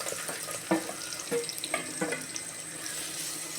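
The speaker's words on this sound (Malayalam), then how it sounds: "ഈ നെയ്യിലേക്ക് നമ്മൾ ചെറുതായിട്ട് അരിഞ്ഞിട്ടേക്കണം ഏത്തമ്പഴം ഇട്ട് കൊടുക്കണം." Chopped ripe plantain frying in ghee, a soft steady sizzle with a few small clinks and stirring knocks, fairly quiet and close.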